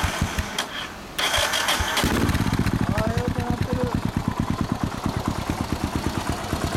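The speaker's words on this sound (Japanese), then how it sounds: "OK、 エンジン音聞かせて。" A 1992 Yamaha SRX400 motorcycle fitted with an Over Racing exhaust muffler cranks over after a brief pause, catches, then settles into a close, steady thumping idle with evenly spaced exhaust pulses.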